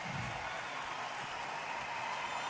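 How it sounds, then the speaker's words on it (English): A boxing arena crowd reacts to a draw decision in a Ricky Hatton fight, a dense, steady roar of cheering and applause filling the whole stretch at a constant distance. "Ooh, listen to that crowd."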